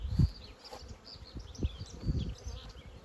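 Honey bees buzzing in a steady, busy hum at an open hive with a few low thumps and handling noises close by, no talking.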